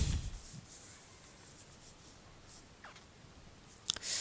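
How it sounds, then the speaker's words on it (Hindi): Pen writing by hand on paper, a steady faint scratching that runs throughout, with a few brief louder taps and scrapes, the loudest near the end. "चलिए एक अच्छा से लिख देता हूँ।"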